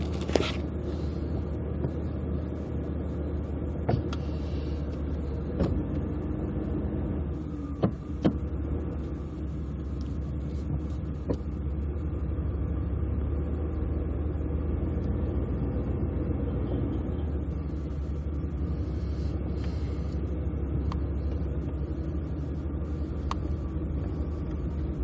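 Inside an older car while driving, a low steady engine drone and road rumble run continuously, with occasional small knocks and rattles from the cabin and no talking.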